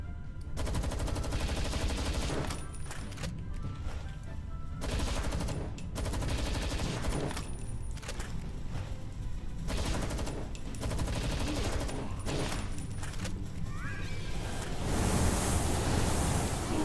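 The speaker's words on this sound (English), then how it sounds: "So, me shooting them with a gun feels like a mercy." Rapid bursts of gunfire from a gun in the video game Palworld, dense repeated shots running continuously at steady loudness through the clip, with no talk over them.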